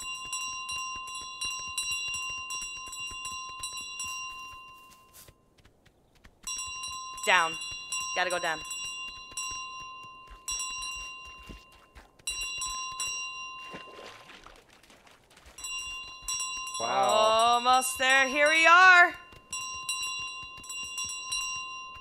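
In Untitled Goose Game on Switch, the goose rings a bell, giving bright, repeated metallic rings in several bursts with pauses between them, while a person talks and laughs over them.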